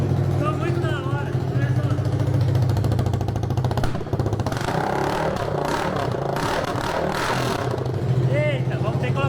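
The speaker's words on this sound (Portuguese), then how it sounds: "esse motor tá muito alto" A 250cc engine fitted to a mini Lancer runs loudly and steadily for the whole stretch, a close, continuous drone with clattering rises in the middle, while someone talks over it.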